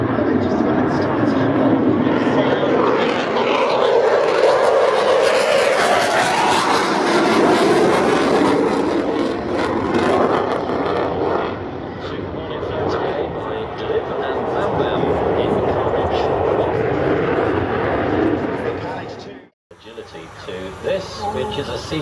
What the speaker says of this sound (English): It's a Royal Australian Air Force C-17